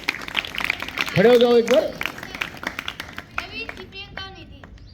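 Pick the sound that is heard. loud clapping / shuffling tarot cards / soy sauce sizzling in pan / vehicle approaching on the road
loud clapping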